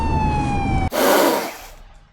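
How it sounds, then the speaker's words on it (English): A police siren wails loudly and close, its steady tone dropping before giving way to a short burst of broadband roar that fades out. "I began to hear police sirens."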